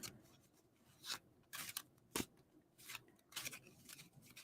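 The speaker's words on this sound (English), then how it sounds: "I'm going to shuffle, shuffle, shuffle." Tarot cards being shuffled by hand, a series of quick papery riffles and slaps in irregular bursts, close and fairly quiet with no talking.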